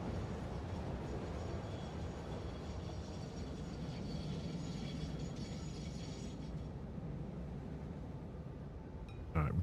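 A stationary train in the Factory Town video game gives off a steady, dense mechanical rumble with ratcheting, gear-like clatter throughout, ending in a brief louder clack.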